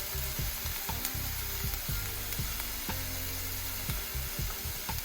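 Steady, loud sizzling of sausage and cabbage frying in a pan fills the scene, with repeated clunks and scrapes of a utensil stirring and knocking against the cookware at an uneven rhythm, no voices.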